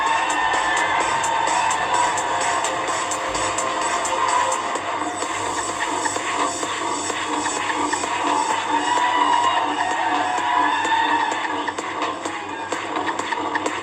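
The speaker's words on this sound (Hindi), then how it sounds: "बहुत तालियां बजती रहे जोरों से." A large conference audience in India cheers and applauds loudly for an arriving guest, a dense, continuous crowd roar with shouts and clapping that holds steady for the whole stretch.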